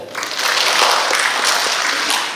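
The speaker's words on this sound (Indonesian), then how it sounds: "Tepuk tangan itu aja." A crowd at a Syawalan gathering of the UJB extended family bursts into applause, a dense, steady wash of many hands clapping close by that holds for a couple of seconds before easing slightly.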